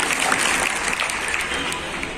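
An audience gives loud, steady applause for a student speaker at a speech event, a dense wash of many hands clapping together.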